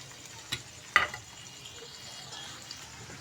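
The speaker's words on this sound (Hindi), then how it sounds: "अब इसके अंदर हम दाल ऐड कर देंगे। इस मसाले को हम हल्का सा इसके अंदर फ्राई करेंगे" Chana dal and masala frying lightly in hot ghee over medium heat, a low steady sizzle under a couple of sharp spoon clacks against the pot, close but fairly soft.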